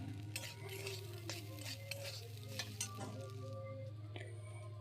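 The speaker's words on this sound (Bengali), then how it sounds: "এইভাবে সিম্পল পদ্ধতিতে আমি ভাতটা ভেজে নিচ্ছি" Cooked rice fries in a pan with a low steady sizzle under repeated soft spatula scrapes and an occasional light clink, faint and unaccompanied by speech.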